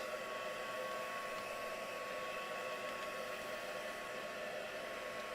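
A hair dryer blows steadily to dry mixed media paint, a constant close whooshing hum with a faint tonal whine, unchanging throughout and with no talking.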